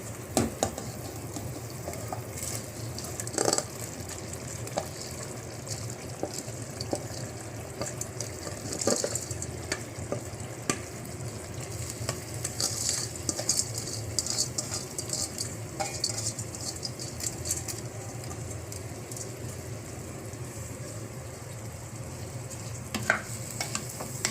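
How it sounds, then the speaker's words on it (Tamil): Rice is stirred and sautéed with mint in ghee, giving a soft, continuous sizzle with scraping strokes and occasional clinks of a spoon against the pan. "நல்லா கிளறி ஒரு 3 நிமிஷம் வதக்க விடுங்க"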